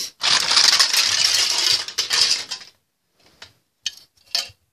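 Marbles roll loudly through a marble playset, a dense clattering rumble for about two and a half seconds, then a few isolated clicks and knocks as they settle, close and without voices.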